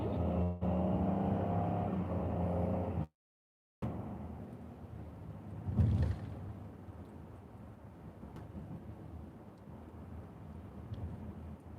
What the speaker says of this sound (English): I don't think cars are supposed to make that noise.